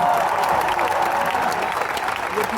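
A large concert crowd at a show in Munich claps and cheers loudly and continuously, a dense wash of applause filling the space.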